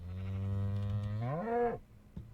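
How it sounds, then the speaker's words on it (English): A cow in Minecraft gives one long, loud, close moo that rises in pitch near the end, followed by a brief quiet knock. "these cows are really noisy nowadays"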